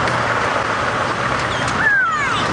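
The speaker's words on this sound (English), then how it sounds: "Let's hope it likes the sound of squeaking brakes." Squeaking brakes of a safari vehicle on an evening game drive, a brief high squeal rising near the end over a low idling engine hum.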